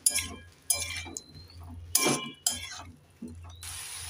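Spices and a little water for a rui fish curry with lau being stirred in a pan, a few close metallic clinks and scrapes of a spoon against the pan with quiet pauses between them, with no voices.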